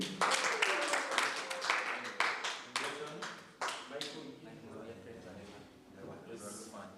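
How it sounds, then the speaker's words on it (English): An audience claps after a presentation at a Franco-Anglo exchange program event. The applause is a burst of scattered clapping mixed with steady talk, fading over several seconds. "Can you clap for him?"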